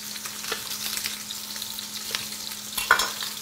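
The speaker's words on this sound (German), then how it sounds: "Auf der Hautseite kurz anbraten." Lamb loin seared skin side down in a hot pan in a restaurant kitchen gives a steady close sizzle and crackle with no talk, with a few louder spits and pan scrapes toward the end.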